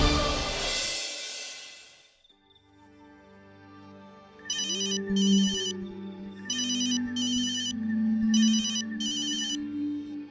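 A phone ringtone starts up, a repeating electronic melody with pulsing double-beat rings, loud and close, after a brief noisy rush at the start.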